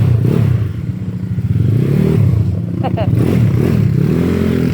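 Two scooters, a Yamaha Mio Sporty and a Honda Click, in a street drag race, their engines droning loud and close with rising revs and some clatter, while voices talk over the whole run.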